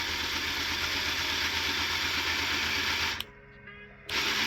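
Electric motor whirs steadily, driving the gears of a Lego Titanic model with a buzzing mechanical drone and gear chatter, briefly stopping for about a second before starting again.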